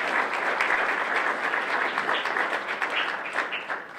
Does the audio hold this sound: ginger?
no